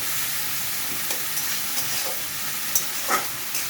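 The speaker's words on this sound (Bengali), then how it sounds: "এখানে আমি জল দিয়ে দিলাম একটুখানি।" Water hits a hot pan and sizzles in a steady hiss, with a few soft clinks and stirring sounds close by.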